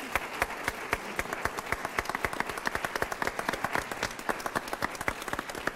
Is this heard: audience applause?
yes